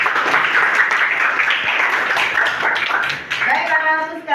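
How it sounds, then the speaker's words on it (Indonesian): Students in a sociology classroom clap together, a steady burst of hand claps lasting several seconds before it tapers off as a voice starts speaking near the end. "ya tepuk tangan sekali lagi"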